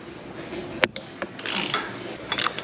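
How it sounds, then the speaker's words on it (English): A socket wrench breaks loose 3/4 bolts on motorcycle handlebars while bars are being installed on a Harley Softail, Dyna or Sportster. Brief metallic ratcheting clicks and scrapes sound up close, separated by short pauses. "So just gonna go ahead and throw the socket on there, break them loose."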